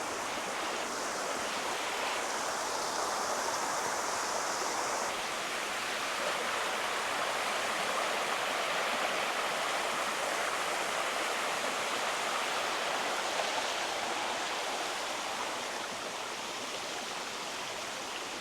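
Creek water flowing beside a trail in a Civil War park after overnight rain, a continuous close rushing and babbling that stays steady and fairly loud throughout, with no voices.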